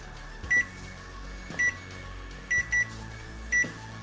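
Short electronic beeps sound at irregular intervals, five in all with a quick double near the end, over a steady low appliance hum.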